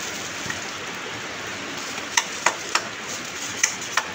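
Steady rain falls as a constant hiss, with a few sharp drips or ticks landing on a nearby surface every half second or so, and no one speaking.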